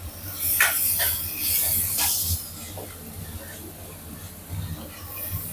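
Ginger and garlic sizzle and hiss in hot oil while frying for a mutton gravy, a steady spattering hiss with brief louder bursts, close, under a low hum and some background noise.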